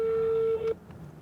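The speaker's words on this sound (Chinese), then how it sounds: "先是我给我妈打个电话，然后是这个范丞丞给范冰冰打的电话" A telephone line tone sounds as a steady single beep held for most of a second, then cuts off, leaving quiet room noise.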